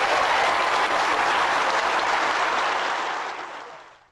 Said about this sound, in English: the whole room erupts in applause